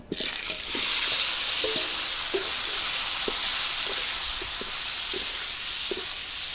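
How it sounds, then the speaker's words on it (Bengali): Okra and potato pieces frying in oil in a village kitchen; a loud, continuous sizzling hiss with light rhythmic clicks of stirring, close and steady throughout. "যেহেতু ভেন্ডিও ভাজছি আলুও ভাজছি"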